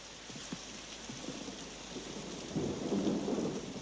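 Steady rain falls with a soft hiss, joined by a low rumble of thunder building near the end; no one speaks.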